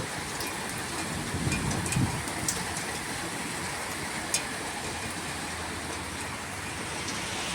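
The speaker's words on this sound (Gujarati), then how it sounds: "જોરદાર વરસાદ છે રાજકોટની અંદર" Heavy rain falls in Rajkot as a constant, even rush of noise, fairly soft and unbroken, with no voices.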